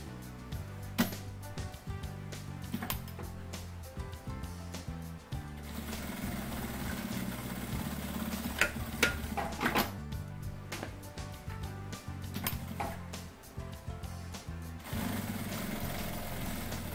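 A sewing machine stitches fabric for an organiser folder in a small atelier, a steady mechanical whir running continuously at moderate level with a few brief pauses and clicks, no talking.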